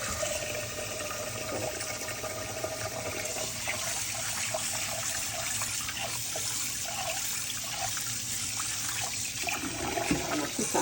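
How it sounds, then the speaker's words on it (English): Rice being washed in water for a Jamaican corned beef and rice dish, a continuous splashing, running-water wash with broad noisy texture, steady and close throughout, no talking. "I'm gonna wash the rice about 3 times."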